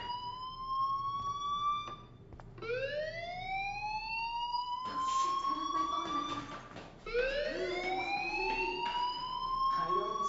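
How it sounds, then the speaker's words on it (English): A fire alarm in the video game Life is Strange rings out in rising, sweeping wails that repeat with short breaks, loud and steady over a low background hum. "Hey, do you hear that fire alarm?"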